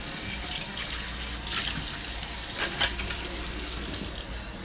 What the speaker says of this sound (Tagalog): Drain na po siya, guys. Tatapon natin yung water.